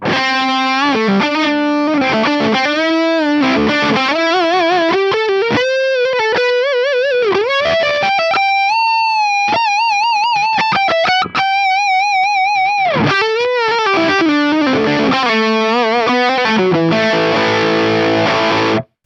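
Electric guitar run through a thick Maxon Sonic-style distortion on an FM3 into an AC20-style amp, playing a loud, continuous stretch of sustained chords and bending lead lines with no talking.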